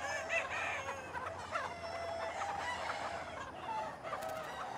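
Chickens cluck and murmur softly in a coop among steady background noise, with a cockerel's crow faintly mixed in, distant and low in volume.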